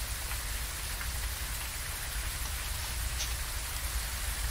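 Heavy rain falls in the ghost-hunting video game Phasmophobia, a dense, steady hiss of downpour that stays loud and even for the whole stretch, with no voices over it.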